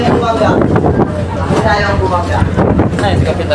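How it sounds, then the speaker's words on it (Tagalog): Strong gusting wind roars across the microphone at Jolo Port amid a collision between two ships, the Maria Rebecca and MV Antonia 1, loud and buffeting, with excited voices talking over it. "Kasi sobrang lakas ng hangin"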